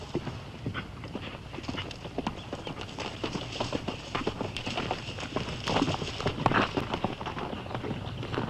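Horse hooves clip-clop in a quick, steady rhythm on open ground in a Western setting, close and continuous, with faint voices underneath.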